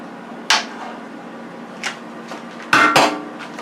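Metal pots and pans clank together in a kitchen as a cooking pot is pulled out from among them, a few sharp ringing knocks with a louder double clatter near the end, close up and with no talk.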